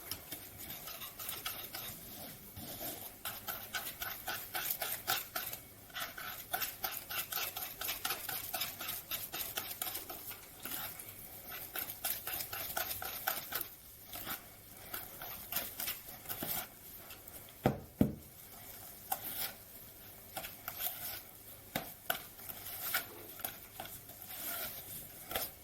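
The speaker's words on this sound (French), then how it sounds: "Nous allons mélanger avec le fouet plat." Yogurt muffin batter mixed with a flat whisk in a Tupperware ramekin, giving a steady run of soft, rapid scraping and tapping strokes close by for about twenty-five seconds, with one brief louder knock near the end.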